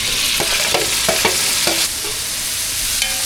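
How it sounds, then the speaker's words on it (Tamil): Onions and tomatoes sauté in a pan for brinjal kootu, a bright sizzle broken by several scraping stirs early on before settling into a steadier hiss, close and without talk. "வெங்காயம் தக்காளி எல்லாமே நல்லா வதங்கிடுச்சு"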